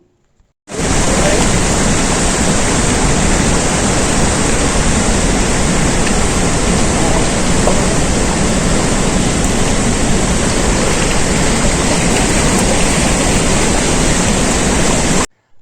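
A powerful waterfall roars continuously, a dense, loud rush of falling water that fills the scene from start to finish.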